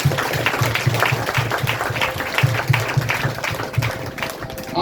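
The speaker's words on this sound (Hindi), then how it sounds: "जोरदार ताली प्रभु यीशु को।" A church congregation at a Friday prayer meeting claps along in a steady, rhythmic beat, loud and close, with a voice faintly audible beneath.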